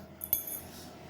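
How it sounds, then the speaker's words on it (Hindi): Metal kitchen utensils picked up from a floor, a brief bright clink followed by a faint second chink, close and quiet. "पहले सबसे पहले इन बर्तनों को उठा के रखती हूँ यहाँ से"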